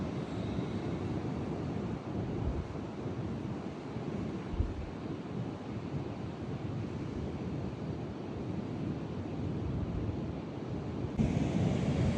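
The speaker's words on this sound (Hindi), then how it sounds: "सपट बीच पर ये समंदर का शोर" Ocean waves roll in at Sapat Beach in the early morning as a steady, loud roar of surf. Wind buffets the microphone and thumps now and then.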